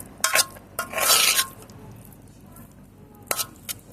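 Boiled potato aloo chaat being tossed in a bowl with red chili powder, a few quick scraping and squishing strokes with a long rasping swirl near the start, then quieter gaps broken by two short final scrapes.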